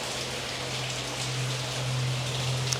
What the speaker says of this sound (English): And then you have over here little mini waterfall